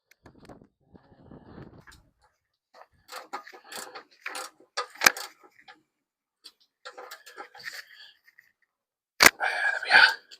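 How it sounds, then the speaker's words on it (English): A wrench ratchets and clicks against the sump plug of a Ford Pinto engine in a Capri, producing scattered, close, quiet metallic ticks and taps with pauses between them. "Just going to check the sump plug is nice and tight."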